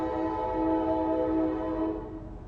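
A train horn blares in a long, steady, harmonic blast that holds for about two seconds and then fades a little, heard outdoors in stormy weather.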